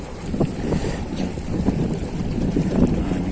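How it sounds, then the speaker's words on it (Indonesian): Strong seaside wind buffets the microphone in steady, loud gusts with rough, rumbling surges throughout, without any voices. "anginnya kencang sekali"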